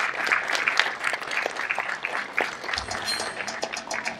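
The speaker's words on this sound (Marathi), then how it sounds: "जोरदार टाळ्या राकेश सारंग सरांसाठी." An audience at a Marathi writers' association honouring ceremony claps in warm welcome, a dense, continuous round of many hands at moderate volume that carries on steadily, with faint background murmur.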